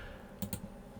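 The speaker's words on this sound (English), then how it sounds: "pressing Alt button on your keyboard" Two quick, faint clicks from pressing the Alt key on a computer keyboard, close and crisp against a quiet room.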